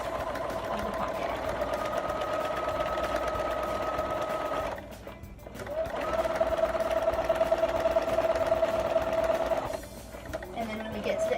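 A sewing machine runs a basic straight stitch along a pocket, humming steadily at close range. It pauses briefly once, then resumes for a second long run before stopping again.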